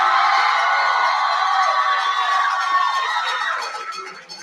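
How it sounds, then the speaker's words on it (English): An audience at a Texas debate opening ceremony cheers and whoops, a sustained bright crowd roar that stays loud for several seconds, then thins and fades toward the end. "Let's give them a round of applause."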